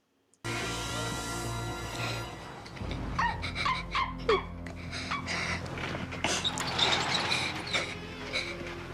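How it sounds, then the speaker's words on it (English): Several dogs pant, snort and whine close up, with scattered creaks and small yelps over a steady low hum. "That's the sound of happy little doggies"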